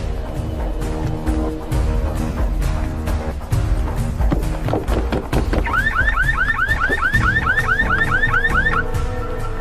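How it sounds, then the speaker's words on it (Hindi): Car alarm blaring from a green Volkswagen, a loud repeating electronic whoop that starts midway and continues steadily, over a busy background of music and street noise. "वो गाड़ी का अलार्म बज रहा है।"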